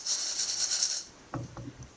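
Crispy, golden-fried parotta pieces are handled up close, giving a dry, rustling hiss and then a few crunchy, brittle crackles, quiet with no voices.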